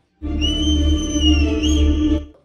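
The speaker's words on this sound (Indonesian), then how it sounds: "Adik-adik Baijan dan masyarakat setempat mulai bersiul membangunkan Baijan." People whistle a long, steady tone that bends briefly near the end, over a low, constant rumble in the background, in an Indian film scene.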